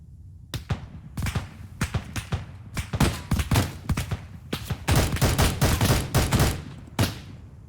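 Video game gunfire in a firefight set in the Anizay area of Afghanistan: loud single shots and clustered volleys crack in an irregular rhythm, thickening into rapid bursts midway through, with no voices.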